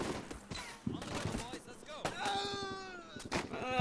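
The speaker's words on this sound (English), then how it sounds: "I think that was a sniper, to be honest." Sniper rifle shot in a military video game, a sharp boom among other distant gunfire and explosions, heard under someone talking.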